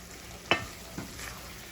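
Coconut sugar candy mixture for Jamaican white grater cake stirred in a pot: a single faint scrape-and-clink, then a softer second touch over a quiet bubbling background.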